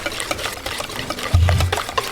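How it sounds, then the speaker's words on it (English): A whisk stirs barbecue sauce ingredients with black pepper in a bowl, giving soft, quiet swishing and light scraping strokes, with one brief louder knock partway through. "Take your trusty whisk and mix all that flavor in there together."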